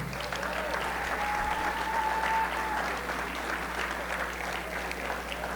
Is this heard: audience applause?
yes